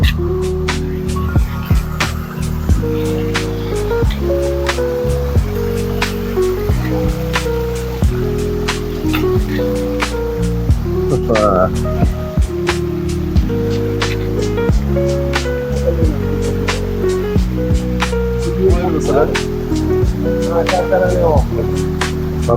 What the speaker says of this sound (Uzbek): Sharsharaga keldik-ku mana, yana bitta sharshara